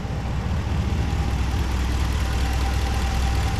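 A 5.7-liter Hemi V8 in a 2019 Ram 1500 Laramie 4x4 idles at close range, a steady low rumble with an even, unbroken drone and no talking.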